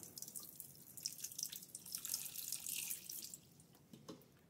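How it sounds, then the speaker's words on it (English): Water poured out of a plastic beaker, a quiet run of small splashes and drips over a few seconds, fairly close and alone. "So first, I'm going to take the plastic beaker and we pour it out."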